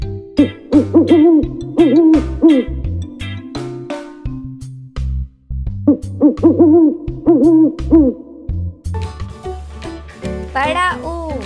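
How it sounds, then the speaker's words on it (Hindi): Owl hooting in an animated Hindi alphabet phonics song, repeated rhythmic hoots over a steady musical backing, loud and close, with a ding-like chime near the end. "उल्लू।"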